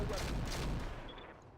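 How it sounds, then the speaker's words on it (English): An alpha strike in the Roguetech mod of the BattleTech video game, with a mech firing all weapons at once as a dense, rumbling volley of blasts that fades out over about a second and a half. "In fact, just Alpha Strike. Locking in all weapons."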